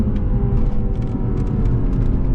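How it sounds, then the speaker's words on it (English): Naturally aspirated Lexus GSF engine humming steadily in the cabin while driving as the automatic gearbox kicks down a gear, a continuous low drone with faint clicks above it. "you can see it kick that downshift automatically"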